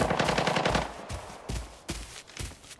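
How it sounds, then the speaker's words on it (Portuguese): Bursts of automatic gunfire in the video game Arena Breakout: a rapid sustained volley at first, then several separate sharp shots with short gaps between them, loud and close, with no talk over them. "Muito tiro, velho"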